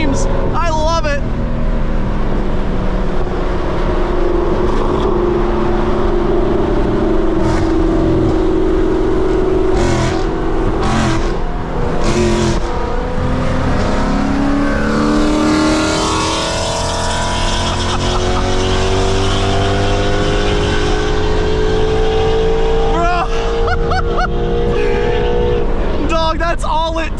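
A 2024 Ford Mustang GT fitted with a full aftermarket exhaust rumbles and accelerates close by, its loud V8 note rising and falling in pitch through several pulls, with voices talking over the engine.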